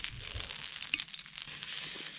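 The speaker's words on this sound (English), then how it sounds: "So you can hear that sizzling noise." Bacon grease sizzles in a hot frying pan over an outdoor cooking fire: a soft, continuous crackle and hiss with small pops, heard alone and fairly faint.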